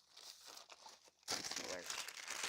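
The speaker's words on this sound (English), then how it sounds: "let's find a piece of clean parchment" A sheet of clean kitchen parchment paper crinkles and rustles up close, quieter at first, then bursting into louder crumpling halfway through.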